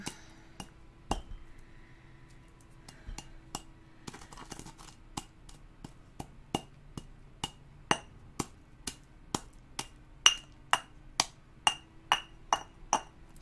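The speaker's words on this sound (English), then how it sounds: "Now resin starts to get sticky as you grind it up." Incense resin is ground by hand with a pestle, giving sharp, clinking taps that start sparse and quicken into a steady, close rhythm of crisp strikes against a quiet background.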